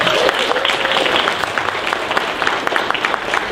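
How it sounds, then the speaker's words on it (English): A convention panel audience at a fan convention applauds, dense, loud clapping running steadily throughout, with a few voices mixed in. "Give yourself a round of applause."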